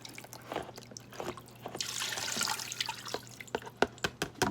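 Water poured into a bowl to rinse out chicken juices, with scattered drips and splashes and a brief, steadier pour in the middle, close by and with no voices.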